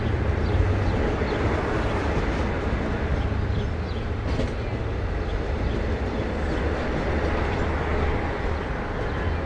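Long Island Rail Road train 6005 at Speonk station, a steady loud rumble of rolling rail cars with faint clickety-clack from the wheels, continuous through the whole stretch with no talk over it.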